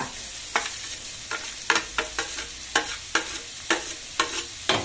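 Green chilies sauté in oil for a potato masala, a steady sizzle broken by sharp, regular scraping strokes of a spoon stirring the pan about twice a second, close and clear with no voices.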